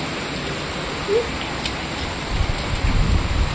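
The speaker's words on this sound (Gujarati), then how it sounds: "મસ્ત મજાનો વરસાદ આવે છે" Rain pours down steadily as a constant broad hiss, with a few heavier spatters toward the end and no voices.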